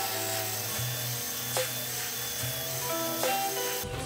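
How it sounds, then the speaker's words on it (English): Steady whine of a knife blade's bevel being ground on a grinder using a clamp-style grinding jig, a constant mechanical hum with a few brief scraping flares, close and alone without talk. "I flipped the blade, and now I'm grinding to the right side of the clamp."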